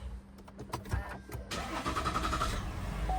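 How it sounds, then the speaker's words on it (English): A 2018–2023 GMC Denali truck engine cranks and catches partway through, then settles into a steady running hum; faint clicks and shuffling come before the start, with no talking. "So what you can do is start the engine."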